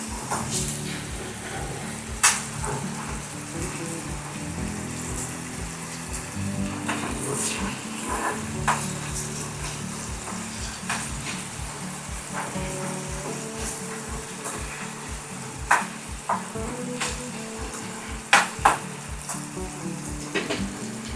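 Tomato masala for a prawn curry fries in a pan with a steady sizzle as a spoon stirs it, scraping and knocking at the pan now and then, close and continuous for about twenty seconds.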